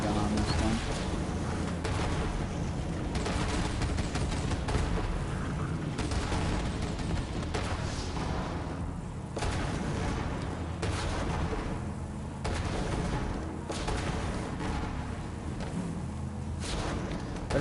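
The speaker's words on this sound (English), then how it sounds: "machine gun on this thing." Vehicle-mounted machine gun in the video game Borderlands 3 firing loud, dense bursts of heavy automatic fire with booming low rumble, continuing for a long stretch with brief gaps and a voice talking intermittently underneath.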